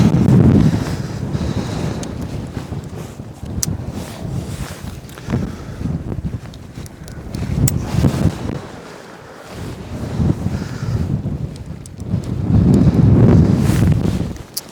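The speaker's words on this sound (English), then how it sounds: "And then cue the wind, of course." Strong gusts of wind buffet the microphone outdoors while pitching an MSR Hubba NX tent, rising and falling in heavy surges with a low rumbling roar and no voices.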